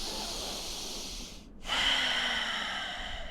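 Slow, deep breathing through the nose is heard close and loud: a long rushing exhale, a brief pause, then a strong inhale that carries on to the end.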